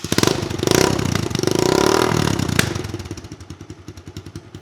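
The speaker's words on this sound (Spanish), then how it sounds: "vamos a arrancar la moto ahora mismo y vamos a ver qué tal suena" A Daelim Daystar motorcycle engine sputters to life and revs loudly with a rough, throaty custom exhaust, then settles into an uneven, pulsing idle that fades somewhat.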